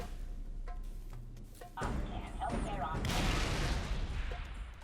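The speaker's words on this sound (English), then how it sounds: "I'm going to try and see if I can get down with one grenade." A grenade blast in Halo 3: ODST on the Mombasa Streets, Kizingo Boulevard level, a loud burst of explosive gunfire-like noise that builds and rumbles over a few seconds, with a voice talking briefly underneath.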